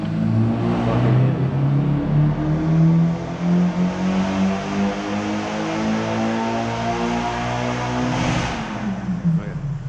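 An SR-engined car revs in the distance, its engine note rising and falling steadily in a continuous drone through the whole stretch, with no talk over it.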